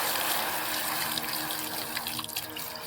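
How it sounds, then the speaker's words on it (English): Running water rinsing tumbled rocks after the first tumbling stage, a steady gushing stream from a tap with faint clatter of stones, near and continuous with no talk. "I'll soak them and rinse them real good."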